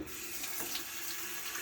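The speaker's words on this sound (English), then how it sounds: "Fill it up with water." Tap water runs steadily into a pot of rinsed rice, a continuous close splashing rush with no speech, just under two seconds long.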